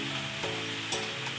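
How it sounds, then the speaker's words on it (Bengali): Frying nimki crackles steadily in hot oil as a slotted ladle stirs through them, a continuous close sizzle with two brief louder scrapes of the ladle. "ছাঁকনি হাতা দিয়ে একটু নেড়ে দেবো"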